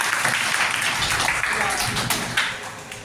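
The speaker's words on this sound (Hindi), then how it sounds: "बच्चा ताली बजाते हैं।" Schoolchildren clap together at a Guru Purnima celebration in a government higher secondary school, a continuous patter of many small hands with a voice faintly underneath, slowly tapering.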